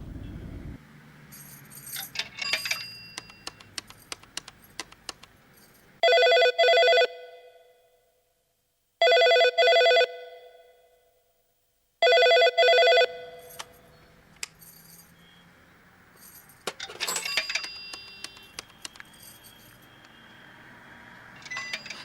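A telephone bell rings in three loud, electronic bursts of about a second each, separated by silences, amid clinking and rattling handling sounds before and after.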